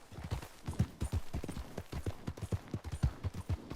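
Horse hooves clip-clop in a steady, repeated rhythm in the Red Dead Redemption 2 video game, fairly close and clear, with no talk over them.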